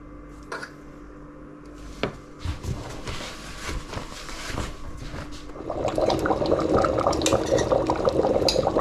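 Beef and red wine stew simmers in a pot while the liquid reduces, giving a close bubbling and gurgling. Soft knocks come first, then a denser, louder bubbling through the second half.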